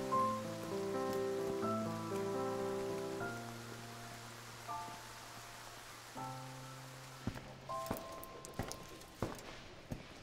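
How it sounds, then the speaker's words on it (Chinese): Heavy rain falls outside as a steady, soft hiss under gentle music, with a few knocks and footstep-like taps toward the end. "外面下那么大雨"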